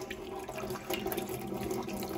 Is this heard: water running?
yes